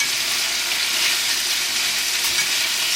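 Green and red onions sizzle steadily in a hot pan while being stirred and broken up with tongs, a close, continuous frying hiss with no talk.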